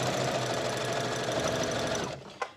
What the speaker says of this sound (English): you just start sewing, back stitch, and sew all the way until you get to the end of the fringe